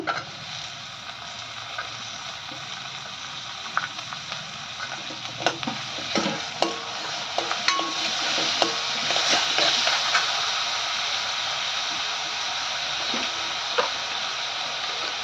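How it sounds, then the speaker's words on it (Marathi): Tomatoes are added to fried onions in a pan, with a continuous sizzle and scattered scraping, tapping stirring strokes up close throughout. "कांदा परतून झाला आहे आता यावर घालूया टोमॅटो"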